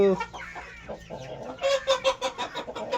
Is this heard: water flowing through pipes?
no